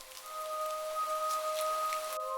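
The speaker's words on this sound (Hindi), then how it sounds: "उस रात बहुत तेज बारिश हो रही थी" Heavy rain hisses steadily as a dense, even wash of sound, moderately loud with a faint sustained tone running underneath and no voices.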